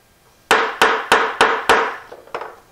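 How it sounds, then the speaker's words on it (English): Five crisp, evenly spaced hammer blows on a wooden turning blank, seating it before lathe work, followed by two lighter taps, close and loud with no talk. "I will actually hit it with a hammer"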